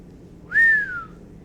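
A single whistle sound effect in a Spanish audiobook, one clear rising-then-falling whistled note lasting about half a second, alone against near silence.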